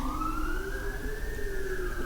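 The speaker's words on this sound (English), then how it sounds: "You guys hearing the siren?" An emergency vehicle siren wails steadily at moderate distance, its tone sliding slowly up and down over a low traffic rumble, with no voices.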